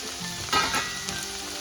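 Ginger garlic paste dropped into a hot pan, a soft steady sizzle swelling briefly as it hits the oil, then settling into an even fry with small crackles.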